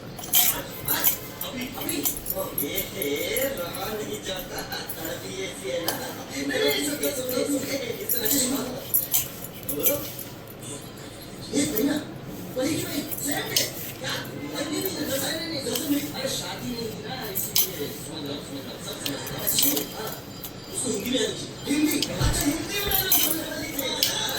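A spoon clinks and scrapes steadily against a bowl while ingredients are mixed with ghee for nan khatai dough, with a busy metallic rhythm under continuous talking.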